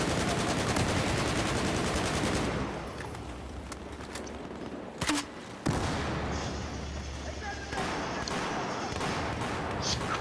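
Rapid machine gun fire in the Battlefield 4 video game, dense bursts at first that thin out, then a sharp blast and renewed sustained firing, with faint voices underneath.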